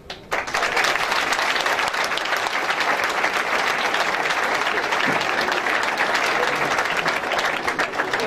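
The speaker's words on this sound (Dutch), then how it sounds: "Nog een keer een applaus, mag ze best hebben" A ceremony audience gives sustained, dense applause for a seven-year-old girl honored as youth volunteer, the clapping steady and loud throughout with no voices on top.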